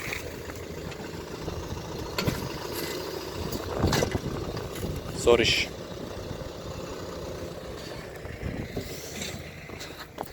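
Deutz Fahr 4090E tractor engine runs at a low, steady hum while filling a trench, with occasional scraping bursts from the work, mostly under men's nearby conversation.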